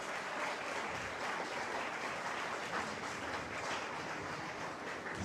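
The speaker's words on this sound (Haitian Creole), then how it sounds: "On applaudit plus fort M." Faint, continuous applause from an audience at an entrepreneurship and leadership panel, clapping for a speaker at a low, even level without any talk.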